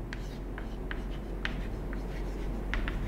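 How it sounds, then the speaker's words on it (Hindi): Pen scratching across paper while a math solution is written out, short strokes repeating in an irregular rhythm, close and fairly faint over a low steady background hum. "नीचे लिखिएगा, तो लिखेंगे"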